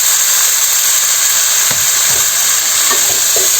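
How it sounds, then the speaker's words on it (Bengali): Water lily stems frying with chopped onion in a pan, a loud steady sizzle and hiss throughout, with a few soft stirring scrapes near the end and no talk. "এখন শাপলার ডাঁটাগুলো হালকা ভাজা ভাজা করতে হবে।"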